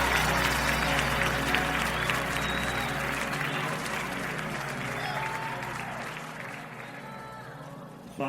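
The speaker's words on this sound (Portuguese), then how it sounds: "Aplausos ao nome de Jesus." A church congregation applauds in the name of Jesus during a worship service, a dense, steady wash of many hands clapping that slowly fades toward the end.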